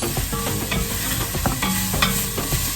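Onions, peppers and mushrooms sizzle in a pan for veggie spaghetti, with a steady frying hiss punctuated by repeated scraping stirs and soft clinks, close and with no voices.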